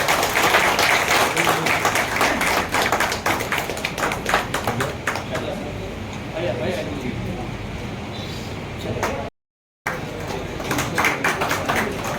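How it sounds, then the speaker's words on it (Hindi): Lively clapping from a crowd at a death anniversary memorial gathering in Patna, sharp claps dense at first then thinning, with a voice speaking over it and a brief dropout near the end. "तालियां बजती रहनी चाहिए भाई।"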